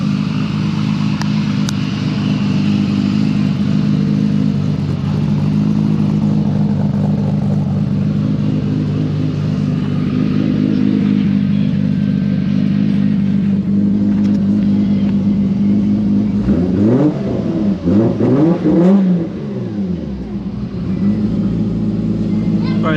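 A Toyota MK4 Supra fitted with a carbon fiber front lip, its engine idling with a steady low rumble before it revs and rises in pitch as the car pulls away nearby.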